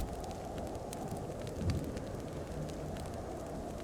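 Crackling campfire in snowy Ishgard in Final Fantasy XIV, a quiet, steady low crackle and rustle close by, with faint pops scattered through.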